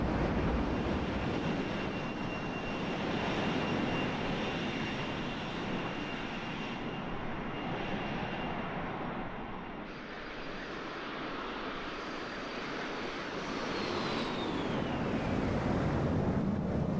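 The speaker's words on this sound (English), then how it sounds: "It really did nail the sound of this plane." A Fokker F28 airliner in a flight simulator gives a steady, roaring engine drone with a thin high whine riding on top, the whine gliding downward near the end.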